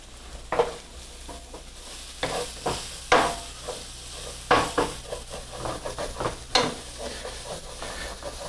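Onion and celery sautéing in bacon fat for potato salad: a soft, steady sizzle under intermittent scraping and stirring, with sharp clinks of a utensil against the pan at irregular intervals.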